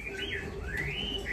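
Male Chinese hwamei songbird giving a clear rising and falling whistled phrase, close and moderately loud over a steady low background hum.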